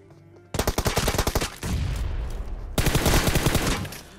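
M4 rifle fire in the mobile shooter BGMI: a loud, rapid automatic burst, a brief pause filled with noisy ambience, then a second sustained burst of fast shots.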